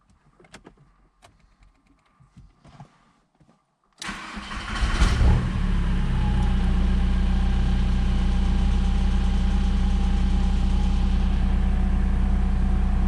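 A VW T4 Syncro engine, just given an oil service, starts up after a few faint clicks and handling noises, then settles into a steady, close, even idle.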